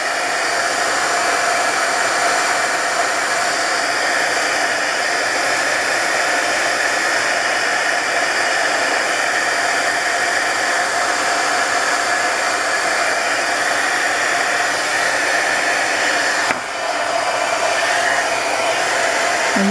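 A hair dryer blows steadily and loudly close by, drying paint on a journal cover, its even roar holding for nearly twenty seconds with a brief dip near the end.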